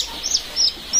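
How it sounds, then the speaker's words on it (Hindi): Three short, high chirps from a desi chicken chick, spaced a fraction of a second apart, fairly near and clear over a quiet background. "ये देखिए, एक चूजा है"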